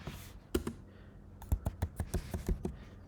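Keys on a computer keyboard are struck in a quick burst while typing a password, about ten soft, close clicks in an uneven rhythm with short pauses, in a quiet room.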